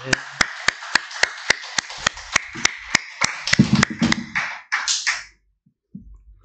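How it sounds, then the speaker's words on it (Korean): A church congregation claps for the young people during a Sunday service, sharp rhythmic claps repeating evenly about four or five per second over music before fading out. "우리 수고한 우리 청년들에서 박수 한번 쳐주시기 바랍니다"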